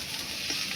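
Chopped onion frying in hot oil in a pan, a soft, steady sizzle with faint stirring texture, brief and fairly quiet.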